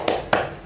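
A pair of crisp, close hand claps with a short gap between them, part of the Indonesian 'tepuk semangat' rhythmic clap chant used as a classroom icebreaker.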